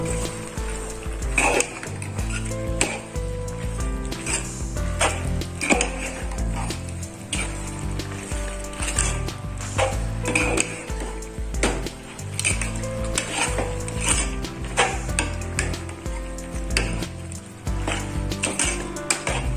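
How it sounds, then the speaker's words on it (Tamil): Mutton masala is stirred into goat tripe gravy in a pan, with steady scraping and clattering of a spoon against metal over a continuous sizzle, close and busy throughout with no talking. "சேர்த்து நல்லா கலந்து விட்டுக்கலாம்."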